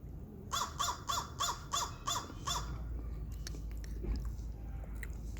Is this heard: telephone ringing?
no